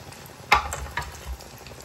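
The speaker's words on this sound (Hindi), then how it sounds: "मैं अब बाकी के धीरे धीरे करके सारे कबाब फ्राई कर लूँगी" Broccoli kebabs fry in oil with a quiet, close sizzle, one sharp clack and a couple of softer knocks from the pan, with no talking.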